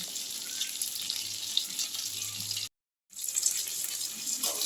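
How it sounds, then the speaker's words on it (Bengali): Soybean chunks fry in a pan with a steady, close sizzling hiss that cuts out for a moment and then resumes just as strongly. "দেখো আমি নেক্সট ব্যাচের সোয়াবিনগুলো একটু ভাজতে দিয়ে দিলাম"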